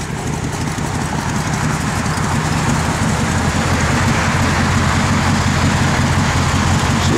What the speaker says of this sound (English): Blower motor works.